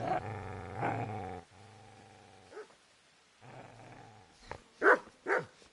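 Deep, rumbling dog growls from the video game Kingdom Come: Deliverance, several sustained snarls with pauses between them, ending in a few sharper barking bursts.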